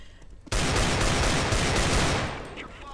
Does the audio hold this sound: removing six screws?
no